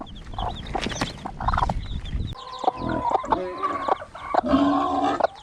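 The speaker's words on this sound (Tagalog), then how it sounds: "Ari po ang tatay na yan, amahin no. Yan po ang amahin." Chickens and a rooster cluck in a coop on a poultry-raising farm, a dense, continuous chorus of overlapping clucks and calls close by, with no talk.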